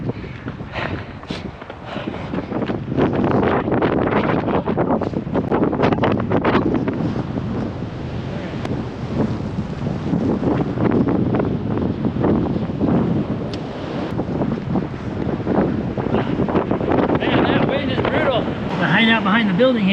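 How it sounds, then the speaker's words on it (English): Strong wind behind a building buffets the microphone in a steady, roaring gust that barely lets up, with faint footsteps and a voice partly buried underneath. "Out behind the building here, it's just so windy."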